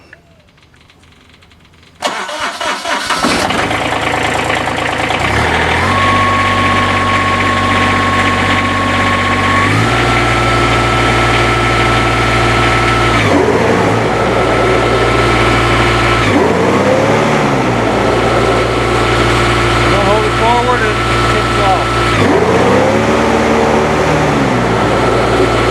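A Kubota ZD326 zero-turn mower with a PTO that won't engage properly starts up and runs, a loud close diesel drone that repeatedly shifts pitch as the throttle rises and falls.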